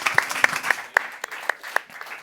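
Audience applause at Plan ₿ Forum 2023, a Bitcoin conference in Lugano: a short, fairly thin burst of clapping with distinct individual claps standing out, moderately close, with no talk over it.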